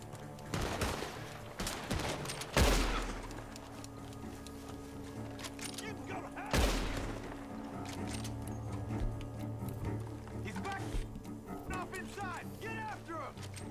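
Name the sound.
gunshots in a video game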